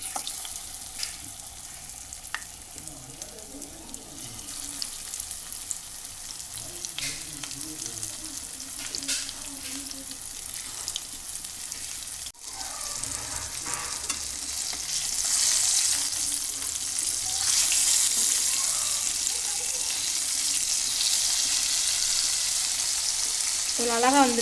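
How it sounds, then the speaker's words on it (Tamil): Vanjaram (seer fish) frying in hot oil in a pan, a continuous close sizzle that swells louder and brighter partway through, with light clinks and no voices. "மீனை இப்போ வறுத்துக்கலாம்."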